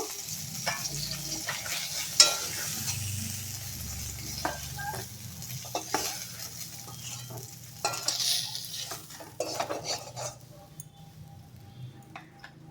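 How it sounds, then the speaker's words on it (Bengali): Rohu fish fries in hot oil in a wok with a steady, close sizzle, broken by light scraping and clinking of a spatula against the metal pan. "মাছগুলো ভাজা হয়ে গেছে, এবার তুলে নেব।"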